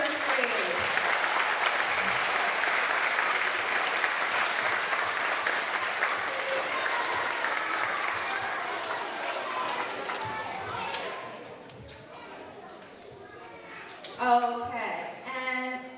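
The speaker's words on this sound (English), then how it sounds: "Round of applause for first grade." A school audience applauds first graders at an award ceremony: dense, sustained clapping that fills the room for about ten seconds, then fades, with voices and a few scattered claps afterward.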